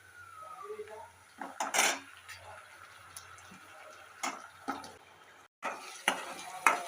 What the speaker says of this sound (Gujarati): આવી રીતે આપણે કડાઈમાં ચોટે નહીં એટલે વચ્ચે વચ્ચે આપણે હલાવતા રહીશું